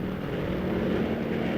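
Military aircraft flying overhead, a loud, dense engine roar that holds steady throughout with no voices.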